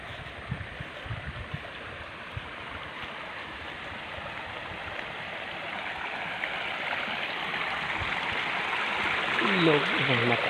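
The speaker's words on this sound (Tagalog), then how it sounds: "Ilog ng mataas na lupa," A river in the highlands of Indang, Cavite flows steadily with a broad, continuous rushing wash of water that swells slightly louder toward the end, while a voice is faintly heard beneath it.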